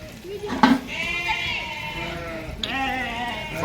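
Goats bleat in a pen before milking, several wavering cries in sequence, fairly close, with steady farmyard background noise.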